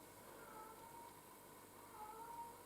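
A house cat makes faint, drawn-out chirping meows while catching a mouse, two soft tonal calls spaced a second or so apart over a hissy background.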